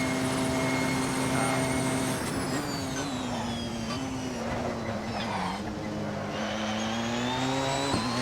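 Porsche 919 Hybrid 2015 prototype race car engine in Assetto Corsa at Le Mans, a loud steady high-revving whine with shifting harmonics and gear-change pitch drops, continuous throughout with no talk.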